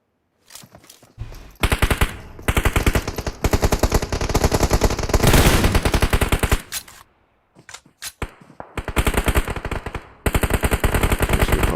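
Bursts of automatic gunfire from a PUBG battle royale tournament match, loud rapid machine-gun volleys repeating in several long strings with short pauses between them, no talking.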